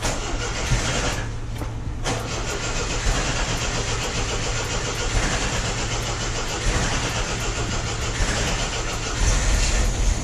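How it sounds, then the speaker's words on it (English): A 1974 MG MGB engine with HIF4 carburetors turns over and catches, then runs steadily with a rough, broadband rumble close by. "Alright, so we got the car started."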